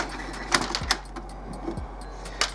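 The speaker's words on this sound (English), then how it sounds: "So we open up the top of the printer" The top lid of an Epson XP4100 inkjet printer opens with a few faint plastic clicks and soft thumps, spaced apart against a quiet room.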